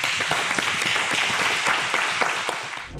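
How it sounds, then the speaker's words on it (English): A crowd claps steadily throughout, a dense patter of applause with no voices on top. "Round of applause."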